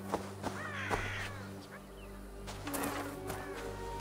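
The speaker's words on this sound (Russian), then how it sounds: "А, это ворона была." A crow caws a few times in Assassin's Creed Valhalla, the calls fairly close and clear over steady in-game ambient background.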